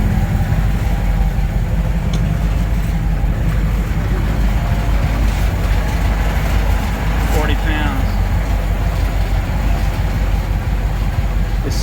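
A 1936 Ford 8BA flathead V8 idles steadily after years sitting in a barn, a loud continuous low rumble running throughout with a voice talking over it.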